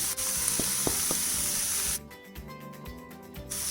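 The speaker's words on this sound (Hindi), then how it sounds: "2-3 मिनट इसको बस भून लेते हैं।" Potato and spices frying in a pan for a vegetable filling, with a loud, steady close-up sizzle and a few scraping stirs, then a rhythmic sequence of quicker stirring strokes.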